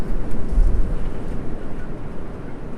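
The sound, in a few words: strong wind gusts outdoors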